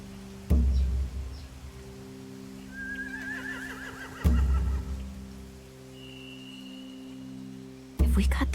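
Horses neigh and whinny in The Walking Dead video game, with one rising whinny in the middle and a higher cry later, set against a steady low hum and a few sharp thumps.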